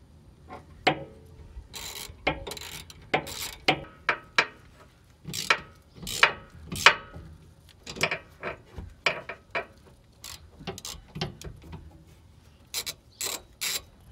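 Wheel hub bolts on a Toyota Celica being tightened with a ratchet, giving repeated sharp clicking bursts in an irregular rhythm, close and fairly loud, with no talking.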